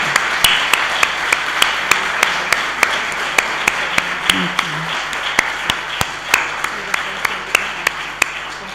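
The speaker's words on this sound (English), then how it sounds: "I think she deserves another round of applause." Applause after a conference presentation, with a steady, evenly spaced series of loud sharp claps standing out over a background wash of crowd noise, close and prominent.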